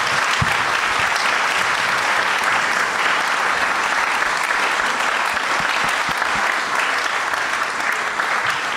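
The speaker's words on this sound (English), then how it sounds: "big round of applause." A live podcast audience at an Arsenal fan show gives a long, steady round of applause, a dense wash of many hands that holds at an even level throughout.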